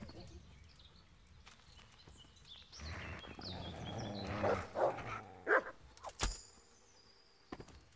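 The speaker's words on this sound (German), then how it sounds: "Ach, das waren zwei Hunde, okay." Dogs bark in the medieval role-playing game Kingdom Come: Deliverance, a few sharp barks in quick succession amid game sound effects and other noise, with someone talking at times.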